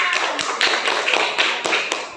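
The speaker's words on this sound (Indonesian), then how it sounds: "tepuk tangan untuk kelompoknya" Fifth-grade schoolchildren in a classroom clap for a group, a brisk patter of hand claps with sharper individual taps standing out, fairly close and without talk.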